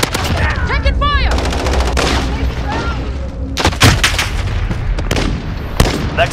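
Bursts of automatic and single gunfire from a Call of Duty Modern Warfare multiplayer Hardpoint match on Grazna Raid, with loud cracks and rattles throughout and game voices calling out over the shooting.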